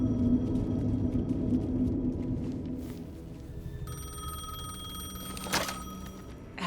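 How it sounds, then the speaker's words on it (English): A payphone rings in the video game Alan Wake 2, its repeated metallic ring faint behind a low rumbling ambience, with one louder clatter toward the end. "The payphone was ringing."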